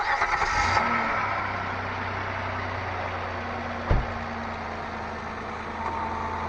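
A used car's engine cranks and catches, then settles into a steady idle with a brief thump partway through, heard close up with no talk.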